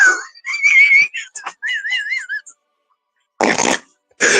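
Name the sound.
mouth imitating a fart sound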